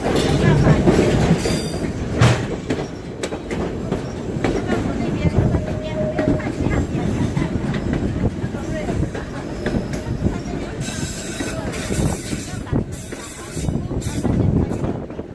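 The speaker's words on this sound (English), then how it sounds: "The train really does chug along, hugging the shore of Bennett Lake, cutting between rocks and hills." A train rumbles steadily along the tracks beside Bennett Lake with rhythmic clattering and occasional metallic squeals, loud and continuous throughout.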